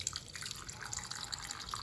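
A Magicat cat water fountain lets a thin stream of water fall and trickle, a close, continuous patter of small splashes and drips with no voices.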